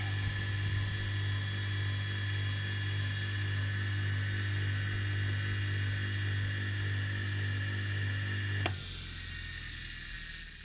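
A salvaged washing machine motor, wired up on a bench, runs with a loud steady electric whine and hum. It cuts off abruptly near the end, leaving a fainter background hum.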